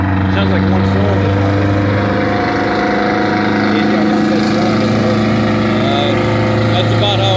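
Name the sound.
Detroit Diesel two-stroke engine running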